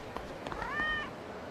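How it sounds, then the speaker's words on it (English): A cat in the Yakuza 0 game gives a single clear, drawn-out meow over quiet background game sounds. "Cats."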